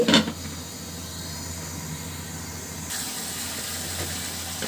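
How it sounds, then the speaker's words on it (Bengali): A curry gravy with beef and new potatoes starts to boil in a covered pot, a close steady hiss and bubbling with a short clatter at the start. "ঝোলটা কিন্তু খুব সুন্দরভাবে ফুটতে শুরু করেছে"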